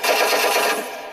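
A short burst of rapid machine gun fire from a model Israeli M50 Sherman tank's electronic sound unit, loud and close, lasting about a second.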